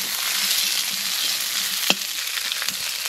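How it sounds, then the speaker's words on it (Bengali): Whole pointed gourds (parwal) fry in hot oil, a continuous close sizzle with occasional sharp stirring knocks against the pan. "ভাজা হয়ে গেছে তুলে নেব"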